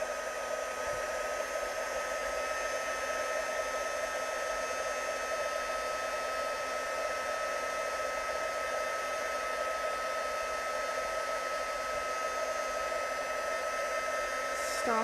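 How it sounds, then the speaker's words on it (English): A heat tool blows hot air over embossing powder on a stamped card, a steady loud whir that runs unbroken and unchanged throughout. "then we'll heat that with our heat tool to set the embossing powder"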